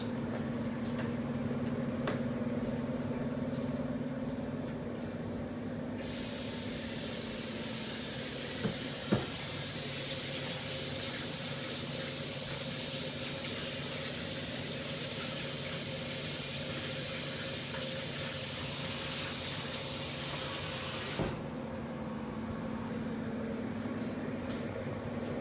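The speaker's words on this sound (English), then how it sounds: "I'm gonna go wash my hands right quick." Kitchen tap running while hands are washed, a steady hissing stream of water that starts, holds for about fifteen seconds and stops, heard from nearby without talk.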